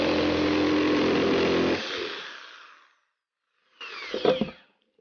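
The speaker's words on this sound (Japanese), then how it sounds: "じゃあ、これで3センチで切ってみます。" A power tool cuts through 12 mm plywood form board: a loud, steady, close cutting roar for nearly two seconds, which winds down. After a pause, a shorter second burst of cutting follows.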